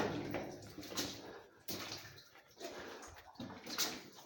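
Quiet sloshing and splashing of shallow water as someone in boots wades in uneven steps through an old railway tunnel, each stride stirring a soft swish.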